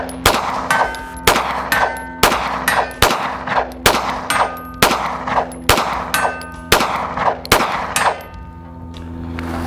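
A Springfield Prodigy pistol fired about a dozen times in a steady rhythm at a shooting range, each sharp, loud crack followed by ringing metallic clangs from steel targets and a short decay, with the sequence ending in a quiet tail.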